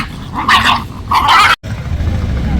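A large dog growls close by at night on a street in Palakkad town, in two rough bursts, then goes quiet before a low rumble of background noise.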